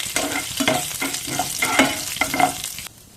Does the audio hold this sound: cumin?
yes